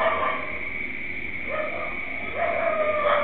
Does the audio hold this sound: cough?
no